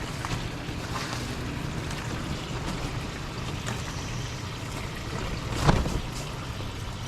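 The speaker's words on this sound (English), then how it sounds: "Sure is a lot of wind today." Strong wind blowing outdoors, a continuous rough rumble buffeting the microphone with one brief louder gust or knock toward the end, no speech.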